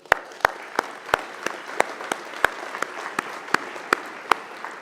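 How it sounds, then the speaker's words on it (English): Scattered applause at a keynote luncheon, with clear, separate claps at a steady pace, moderately faint, as from a small room of listeners. "So a round of applause for Matt's efforts."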